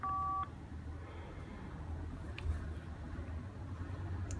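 A Motorola V2288 mobile phone powers on with a brief, loud electronic tone of two steady pitches at the very start, followed by a low, quiet background hum with no talking.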